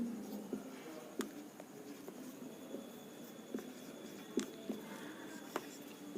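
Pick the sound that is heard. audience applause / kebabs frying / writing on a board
writing on a board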